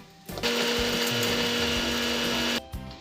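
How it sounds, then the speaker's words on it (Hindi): A mixer grinder grinds roasted spices for a Kashmiri dum aloo in one loud, steady whirring burst of about two seconds that starts and stops abruptly, with no talk. "मिक्सी में सारे मसाले ऐड करूंगी मैं।"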